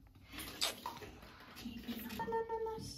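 Running tap water splashing into a basin while a cat is being bathed at home, a soft continuous trickle with small drips and splashes, close by and fairly quiet.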